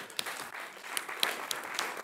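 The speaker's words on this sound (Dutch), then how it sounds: "Geef ze een applaus" Conference audience in Groningen clapping as two actors are welcomed on stage, a moderate, fairly soft patter of many hands with a few sharper individual claps.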